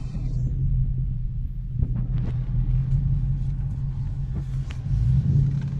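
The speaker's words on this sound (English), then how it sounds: "I love the exhaust system that he put it on this car. It's got such a growl." An Audi S5 with an aftermarket exhaust, recently treated for a misfire, drives along a road with a steady low engine and exhaust rumble and a slight rise as it pulls, no voices.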